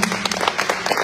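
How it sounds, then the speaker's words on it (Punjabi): Audience applause at a cultural fair honouring Ghadar heroes, a brief burst of dense, close clapping from a crowd. "ਤਾੜੀਆਂ"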